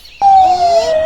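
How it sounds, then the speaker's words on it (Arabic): An ambulance siren starts abruptly and holds a loud, steady electronic wail whose pitch drifts slightly downward over about a second. "إسعاف."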